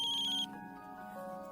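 A mobile phone ringtone for an incoming call plays a bright, high electronic melody that cuts out after about half a second, leaving a softer lingering tonal tail in a quiet room.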